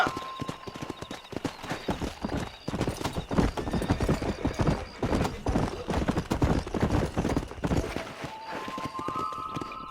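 A horse gallops in the Red Dead Redemption video game, with rapid steady hoofbeats throughout, a neigh, and faint tones near the end.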